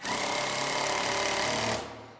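A power screwdriver drives a screw into 2x4 lumber while framing a corner door header, one steady close-up whir lasting under two seconds before it cuts off.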